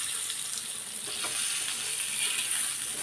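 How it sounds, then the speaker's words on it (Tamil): Pieces of karunai kilangu, elephant foot yam marinated with garlic, frying in a pan, giving a continuous close hiss of hot oil with little variation over a few seconds. "கருணக்கிழங்கு வறுபடட்டும்"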